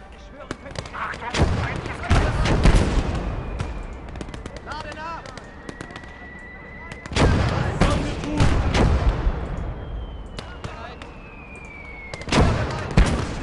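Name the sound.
artillery gun firing in the video game Close Combat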